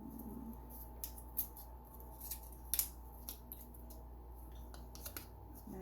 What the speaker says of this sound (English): I have one of Robert's razors, so I'm gonna try using this to cut